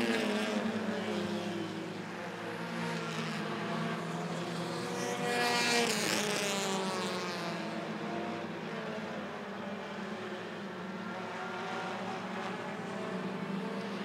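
Bandit-class race cars roar past together on the backstretch at Rockford Speedway, a loud, continuous engine drone that swells and sweeps in pitch as the pack passes close around six seconds, then settles back into a steady roar.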